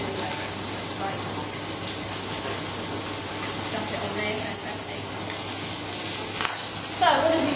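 Steady sizzling of food frying in a pan, a constant hiss with occasional clatter near the end.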